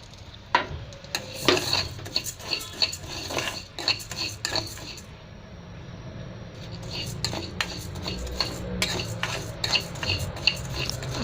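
Metal spoon scraping and clinking against a pan in frequent bursts, over a low sizzle of raw rice grains being roasted in oil until brown, close by; brief voice now and then.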